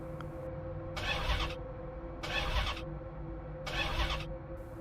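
A car engine cranks in three separate bursts, each grinding for about a second without catching, separated by pauses over a steady low hum.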